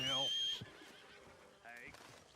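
Horse neighing in the video game Red Dead Redemption 2, a loud whinny at the start with a second shorter neigh later, over a steady game ambience with faint hoof clip-clop.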